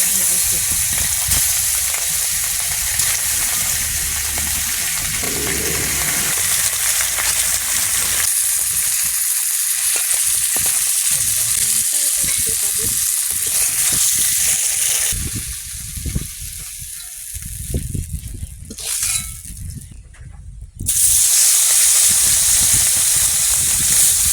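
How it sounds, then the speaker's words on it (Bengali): Freshly caught pond fish fry in a pan with a loud, continuous close sizzle and bubbling hiss that dips briefly and surges back, along with occasional clatter and faint voices. "মাছগুলো ভাজা হয়ে গেছে"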